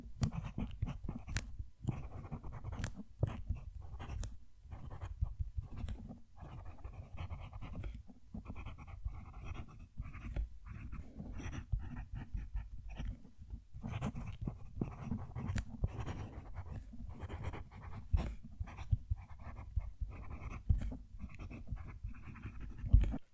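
A Kaigelu fountain pen nib scratches across paper in close, quiet, whispery strokes, soft scraping bursts coming in an irregular rhythm with brief pauses between words.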